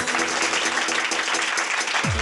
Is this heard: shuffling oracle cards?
no